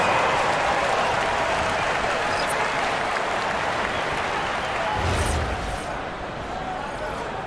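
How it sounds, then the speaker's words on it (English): Dense, steady applause and cheering from a large indoor arena crowd at a WNBA basketball game, loud throughout and easing slightly toward the end. "please give a big round of applause for your dance team"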